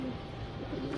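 Pigeons settled after a feeding coo softly and continuously, with low, close murmuring throughout a brief moment and no voices.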